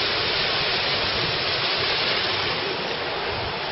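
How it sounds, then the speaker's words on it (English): A waterfall pours off the side of High Stile in the Ennerdale valley, heard as a steady, full hiss of rushing water that stays even and unbroken throughout. "I love the waterfall running off the side of High Stile."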